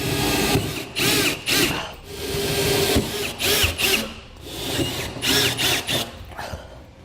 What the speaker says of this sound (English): once we have all of our pilot holes made, we can enlarge our holes in the bed to 1/2 inch.